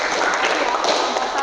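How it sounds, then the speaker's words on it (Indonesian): A classroom audience at a maritime vocational school applauds after a discussion, a steady wash of clapping throughout with a voice talking over it. "Tepuk tangan dulu."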